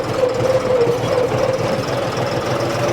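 A John Deere tractor engine runs steadily during a fuel-consumption test drive, a close, continuous drone with a faint knocking texture and a thin whine over it.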